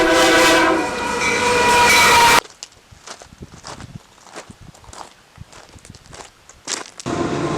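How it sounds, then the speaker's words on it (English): A train rumbles past loudly with a blaring horn in Afton Canyon, San Bernardino County, then cuts to quieter clicking and clacking wheels over rails before the loud rumble returns. "Trains then travel on through Afton Canyon."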